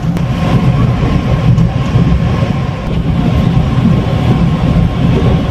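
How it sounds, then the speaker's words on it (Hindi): The Vande Bharat Express from Jammu to Srinagar runs through Kashmir, heard from inside as a loud, steady low rumble of wheels and carriage noise with faint rattling. "ट्रेन अभी हमारी अवंतीपोरा स्किप हुई है और 11:10 पे राइट टाइम हमें पहुंचा देगी श्रीनगर जम्मू कश्मीर।"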